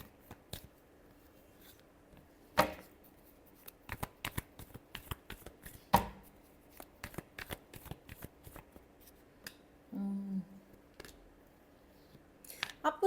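A deck of tarot cards shuffled by hand, giving close, quiet snaps and riffles spaced irregularly, with a brief hum partway through and no speech.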